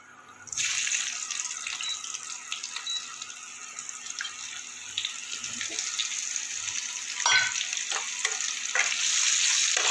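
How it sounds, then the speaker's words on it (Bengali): Potatoes go into hot oil left over from frying rohu fish for a Bengali curry, giving a steady, close hiss of bubbling oil with occasional sharper crackles and clinks, no talking. "এবার আমি আলুগুলো ভেজে নেবো ওই তেলে"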